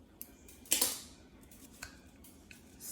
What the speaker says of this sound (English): I am going to cut the baby hair with my baby scissors